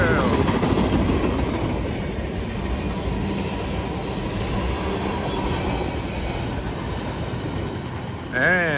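Conrail freight train rolling past on the rail line, a steady loud rumble of wagons and wheel clatter throughout, with a brief squeal near the end.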